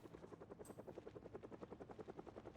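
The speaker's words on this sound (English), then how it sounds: "just straight on the helicopter has arrived" A helicopter arrives in a video game, its steady rotor thump pulsing at an even rapid rhythm, moderately close and unbroken by talk.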